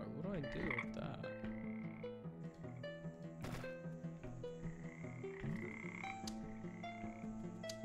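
Frogs croak in a Dark Souls-like action video game featuring frogs and guns, with layered croaks and chirps repeating over a busy backdrop of game music and tonal effects, no voices.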